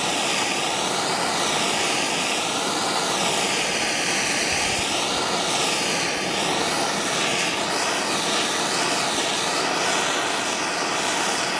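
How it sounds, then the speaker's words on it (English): A MAP gas torch heats a seized part on an old Saab Sonett, producing a steady, close, roaring hiss that holds at an even level throughout with no talking. "What really seems to work is I took this MAP gas torch and just"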